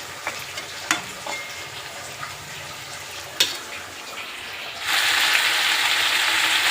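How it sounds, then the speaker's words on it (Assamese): Boiled chicken dropped into a pan of onions frying until red: a few sharp clinks over soft frying, then a sudden loud sizzle that swells and holds to the end, with no talking. "বইল কৰা চিকেনখিনি মই দি দিলোঁ"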